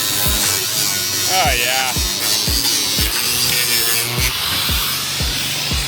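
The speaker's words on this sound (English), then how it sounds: "Mr. Dahl is drilling away, making progress on this new splitter build for the spare splitter" Power drill boring into material during a race car splitter build, heard as a series of repeated low bursts, roughly one every half second, in a busy workshop with a brief spoken exclamation.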